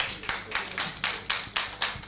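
Applause from an audience at a festive Tabaski stage show comes in a quick, regular burst of claps, moderately close and slightly thin, with no talking.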